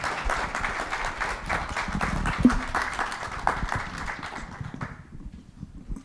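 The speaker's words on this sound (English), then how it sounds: "Let's give them a round of applause." Audience applause at a live summit in Washington, D.C., a dense wash of many hands clapping that holds steady, then thins and fades toward the end.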